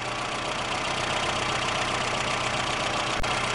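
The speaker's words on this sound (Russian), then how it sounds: "Вот поэтому двигатель с подключенным лямбдозондом работает хуже" A car engine with a faulty lambda sensor runs steadily at idle, a continuous mid-to-low drone with a faint knock, close and alone, with one brief click near the end.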